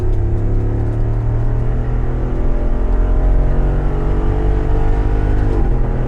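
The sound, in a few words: Jeep Wrangler 392 accelerating in Sport Plus mode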